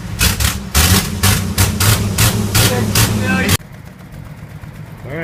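A 1976 AMC Pacer with a newly welded exhaust runs loud and close with a pulsing, throbbing idle and a rough rhythmic beat, then cuts abruptly to a much quieter background.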